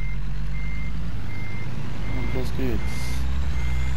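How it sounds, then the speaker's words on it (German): In American Truck Simulator, a truck backs up on a highway. Its reversing beeper sounds in an even, repeating pattern over a loud, steady engine drone, with a brief air hiss. Someone speaks briefly over it. "Rückwärts fahren auf der Autobahn."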